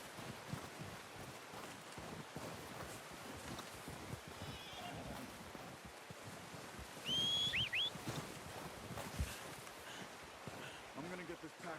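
In the video game Red Dead Redemption 2, a horse whinnies in a short, high burst while hooves shuffle and clop quietly, with ambient outdoor wind and a voice talking nearby.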